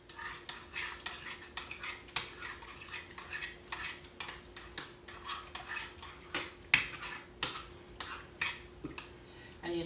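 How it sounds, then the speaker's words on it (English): Spoon stirring stuffing mix with melted butter in a pot for a chicken and stuffing casserole: repeated soft scraping and clinking strokes in a steady rhythm, close and fairly quiet, with no talking. "Give it another stir."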